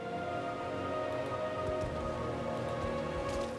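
In Diablo 4, a storm of blood falls as rain, a steady, even hiss of drops spattering on surfaces, moderately loud and unbroken, with no voices over it.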